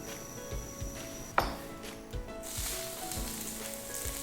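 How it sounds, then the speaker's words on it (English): Tofu cutlets fry in a pan of oil, a steady close sizzle with a sharp clatter as they go in and light pan knocks, the hiss rising louder toward the end. "Now I'm going to cook the tofu cutlets, and for that I'm going to add 2 teaspoons of oil"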